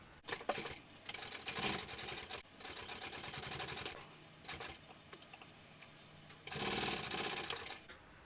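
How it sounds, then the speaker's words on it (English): A sewing machine runs a base stitch through fabric in several bursts of rapid, rhythmic needle clatter, close and clear, separated by short pauses with no talk. "I'm just going to go ahead and do a base stitch so that this does not move"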